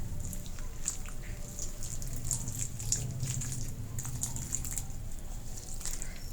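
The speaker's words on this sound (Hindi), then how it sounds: "अब हम इसमें डाल देंगे पानी।" Water poured from a container onto freshly planted potted plants in a homemade garden planter, a steady soft splashing and trickling into soil held close by for several seconds, with no talking.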